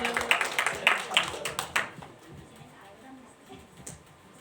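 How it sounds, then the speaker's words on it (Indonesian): A church congregation breaks into a short burst of rhythmic clapping, close and fairly loud for under two seconds, then fades into a quiet room with faint voices. "tepuk tangan buat Tuhan Yesus."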